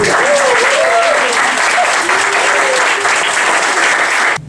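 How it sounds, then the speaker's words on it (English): A round of applause for Harlan Joy and Barbara Joy at a community radio station's 45th birthday celebration: loud, dense clapping from a crowd, with a voice speaking over it early on. "So let's give them a round of applause."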